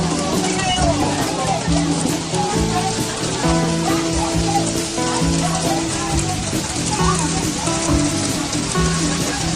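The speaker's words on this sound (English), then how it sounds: "Oh, it's not just rain, it's hail." Hail mixed with rain pelts the ground and surfaces at the Grand Canyon in Arizona, a dense, steady, loud patter that runs throughout, with voices speaking over it.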